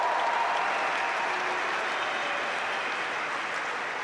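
A crowd applauding after a Wimbledon tennis match, dense steady clapping from a large audience sustained at full strength throughout, no voices.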